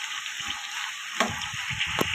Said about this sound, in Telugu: కలుపుకొని కొంచెం నూనెలో మగ్గాలండి